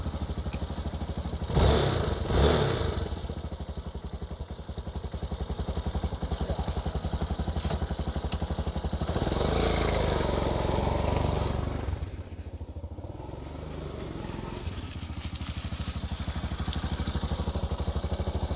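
A cheap beginner dual sport motorcycle engine runs on half choke, a steady close idle with a couple of louder thumps early and a brief dip partway through, with no voices.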